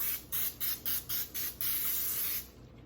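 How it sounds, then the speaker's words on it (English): Cooking oil sprayed onto a cake pan: about six quick, close hissing bursts in a steady rhythm, then one longer continuous spray before it cuts off. "So I'm gonna spray this pan."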